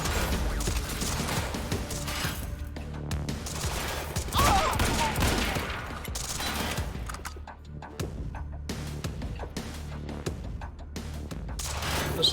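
Dense, continuous gunfire from the Quantum Break video game: rapid overlapping shots and bursts stay loud and close for the whole stretch, with brief dips between volleys.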